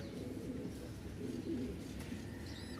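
Pigeons coo softly in a low, murmuring flock, a steady throaty burble that runs throughout with faint chirps over a background of rain.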